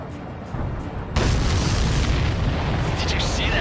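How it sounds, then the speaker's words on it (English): A shot-down supply ship explodes in the Ace Combat 7 flight combat game, a sudden loud boom that swells into a sustained roaring rumble and crackle lasting several seconds. "Did you see that explosion?"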